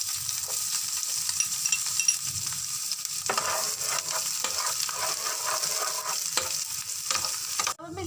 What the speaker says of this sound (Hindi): ऑयल हमारा गर्म हो चुका है, अब हम इसके अंदर प्याज ऐड करेंगे।